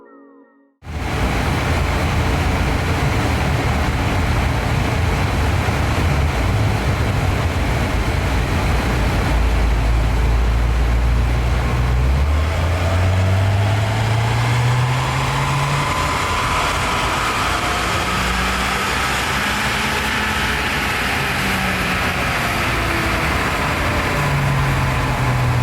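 A Ford Fiesta ST with Stage 1 modifications runs hard on a dyno, its engine loud and close as it climbs steadily through the revs in one long sustained pull, then drops back near the end.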